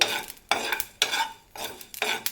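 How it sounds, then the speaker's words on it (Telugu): Mustard seeds and fenugreek dry-roasting in a pan for a chicken pickle, stirred in five brisk, evenly spaced scraping strokes, each one a close, crackling rasp followed by a short lull. "ఆవాలు వేసుకోవాలి ఇవి బాగా మనం వేపుకోవాలి"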